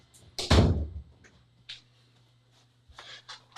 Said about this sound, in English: me close the door really quick.